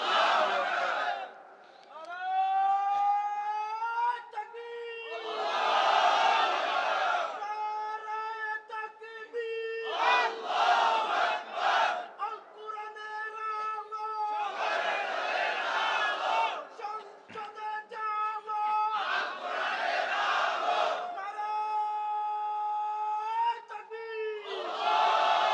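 At a religious gathering, a large crowd answers a leader's call with chanted shouts of Allahu Akbar in repeated waves. Loud, sustained voices rise and fall in a call-and-response rhythm.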